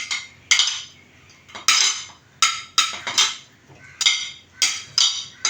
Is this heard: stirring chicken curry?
yes